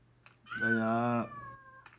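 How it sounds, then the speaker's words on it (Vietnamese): A single drawn-out cat meow from a mobile game, loud and clear, with a tonal cry swelling and then trailing off over about a second and faint background hum around it. "Có mèo đây rồi."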